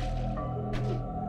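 Water is collected in the video game SteamWorld Dig 2: a brief wet squishing, dripping gurgle over a constant tonal game background, lasting only about a second.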